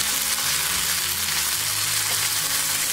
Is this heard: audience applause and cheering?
no